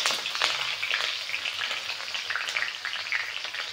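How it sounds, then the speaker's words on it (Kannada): Green chillies frying in hot oil for egg fried rice, a steady close sizzle and crackle running unbroken throughout with occasional sharper pops and stirring scrapes, no talking. "ಎಲ್ಲ ಫ್ರೈ ಆಗಲಿ ಮೆಣಸಿನ್ಕಾಯಿ."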